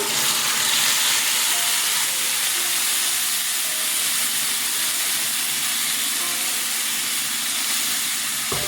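Ginger, onion and garlic paste frying in hot oil for a prawn curry, a loud continuous hissing sizzle with steam, close and steady throughout, no voices.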